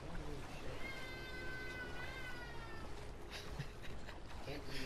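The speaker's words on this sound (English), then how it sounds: "Be mean to my cat" A pet cat gives a drawn-out meow over steady background noise, moderately loud and close, with a voice talking faintly beneath.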